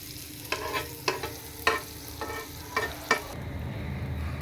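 Bread sandwich toasting in butter in a pan over a very low gas flame, giving a quiet, steady sizzle with a few evenly spaced scraping or tapping strokes of a spatula, close by and fairly faint.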